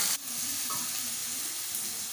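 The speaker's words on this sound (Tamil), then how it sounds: "ஃபஸ்ட்டு ஒரு 10 மினிட்ஸ் ஃபுல் ஃப்ளேமில் வச்சு வதக்கிக்கலாம்." Bitter gourd sautéing over a full flame, a dense continuous sizzle and hiss that runs steadily with a brief scrape of stirring near the start, close and loud with no voices.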